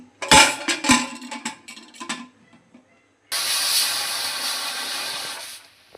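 A pressure cooker of mung dal: a lid rattles and clanks first, then a loud, steady hiss of escaping steam runs for a few seconds before fading out.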